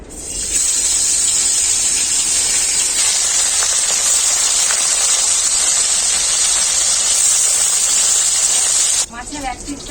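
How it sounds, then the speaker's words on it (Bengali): Khoira fish frying in hot mustard oil in a kadai, a loud, steady broadband sizzle and hiss that holds for several seconds before cutting off abruptly. "তেল খুব ভালোভাবে গরম হয়ে গেছে আমি এখন মাছগুলো ভেজে নেবো"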